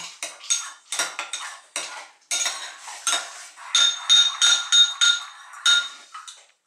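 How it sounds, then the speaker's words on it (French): A spoon stirs veal blanquette sauce in a metal pot, producing loud, close clinks and scrapes in quick repeated bursts, with no voices. "Alors là, je touille."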